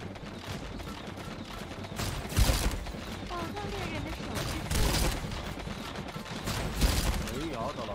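Gunfire in the battle royale video game Naraka: Bladepoint, scattered bursts of shots and booms at mid distance under continuous chatter from players talking.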